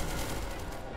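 Rapid, dense gunfire fills a single second in the video game SCP: Secret Laboratory, loud and close, with a continuous burst like automatic fire.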